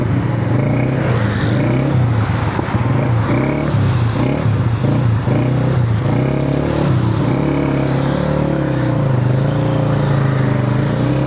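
A motorcycle being ridden along a road hums with a steady, close engine drone and a low, sustained tone that rises and falls slightly over several seconds. No one speaks over it.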